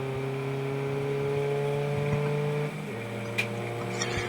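A race car at a Donington Park trackday championship race drones past at steady speed, then its engine note drops as it moves on, heard at moderate distance with a brief sharp click near the end.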